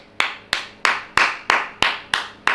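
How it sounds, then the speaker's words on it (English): A football fan hand-claps during a live Leeds United vs Burnley watch-along, eight sharp, evenly spaced claps about a third of a second apart, close and clear with no talking. "this clap is for you"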